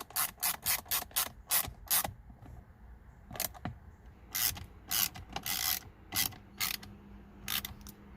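Bolts being tightened with a ratchet while fitting a new steering wheel on an Infiniti G37, their threads treated with medium Loctite; repeated short, sharp clicking bursts come close to the microphone in quick runs, with brief pauses between them.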